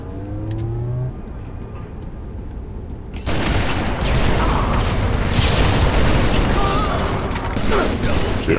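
Rocket explosions and gunfire in a multiplayer shooter game, a heavy dense burst of blasts and rumbling erupting after quieter game noise and staying loud and continuous to the end, with voices talking over it.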